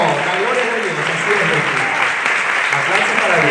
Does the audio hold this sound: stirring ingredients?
no